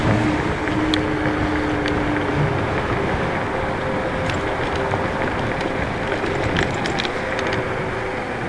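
Wind buffets the microphone in a continuous rough roar with a low motor drone beneath and scattered faint clicks.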